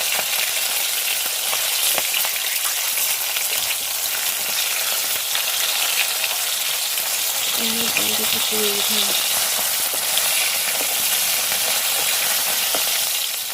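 Fish frying in darkening oil, a steady loud sizzle and crackle running the whole time with a brief tonal clink partway through.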